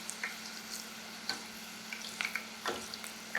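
Brussels sprout ends fry in hot oil with a steady, dense sizzle and bubbling, broken by small pops and spits. The sound is close and even throughout, with no talking.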